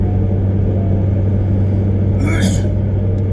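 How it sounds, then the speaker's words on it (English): A steady low engine rumble from a running car fills the background, with a brief hissing swell near the end. "I really hope my car isn't so loud"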